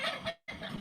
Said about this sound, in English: Wild turkeys chasing down a postal worker.